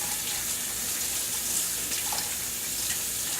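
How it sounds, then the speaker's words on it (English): Tap water runs steadily over hands being rinsed in a sink, a close, continuous hissing splash with slight variations as the hands move. "Let me rinse my hands real quick here."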